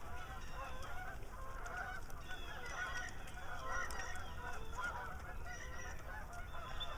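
Distant wild geese honk repeatedly in a loose, overlapping chorus, faint and far off against a quiet outdoor background by the water.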